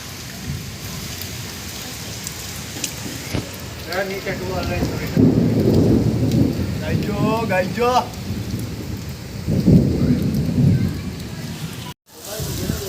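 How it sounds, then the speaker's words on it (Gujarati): Steady rain pours down during a thunderstorm in Junagadh, a constant hiss throughout with low rumbles swelling twice; people talk intermittently over the downpour. "વાતાવરણ બધું આખું એકરસ છે પણ વરસાદ હવે ઓછો પડી ગયો"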